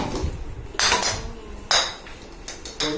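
Three balls dropped one after another into a plastic automatic pitcher toy, giving three sharp clattering knocks spaced about a second apart, close and clear over a quiet background.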